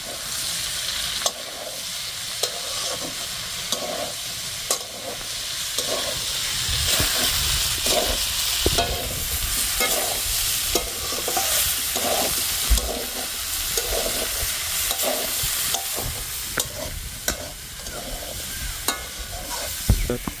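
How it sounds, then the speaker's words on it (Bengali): A potato and pointed gourd curry seasoned with turmeric and coriander powder sizzles and hisses steadily in a pan, while a spatula repeatedly scrapes and knocks against the pan. "এবার আমরা নেড়ে নেব।"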